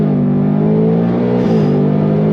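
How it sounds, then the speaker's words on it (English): A Whipple-supercharged 2024 Ford Mustang GT of about 800 hp in drag mode pulls hard at full throttle, its loud, close engine drone rising steadily in pitch, with a brief shift-like dip midway. "I have it in drag mode, and we are going to go on throttle."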